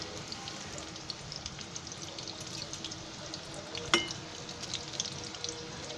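Chicken 65 pieces sizzle in hot oil, a steady crackling fry with scattered pops and one sharper spatter, close and moderately loud with no talking.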